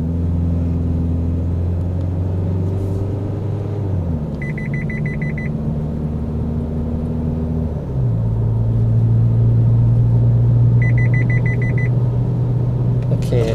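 An Isuzu MU-X SUV with a 1.9 diesel engine accelerates hard from 50 to 100 km/h, its engine droning loudly and rising in pitch through gear changes, with intermittent electronic dashboard beeps chiming twice.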